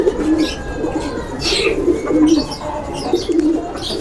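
Original Ferozpuri pigeons with silver eyes coo repeatedly in low, rolling phrases, several coos spaced through the stretch, close by with some faint chirping and background noise.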